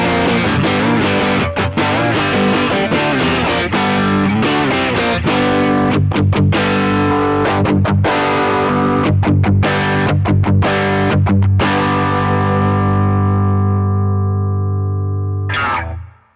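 Electric guitar played through distortion, with thick sustained chords and choppy muted stabs, loud and close, ringing out at the end before a final cut-off.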